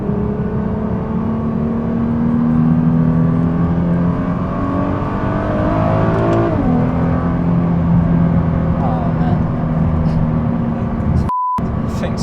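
A Nissan R35 GT-R engine revs hard and climbs in pitch through an acceleration, briefly drops as a gear shifts, then pulls again loud and close.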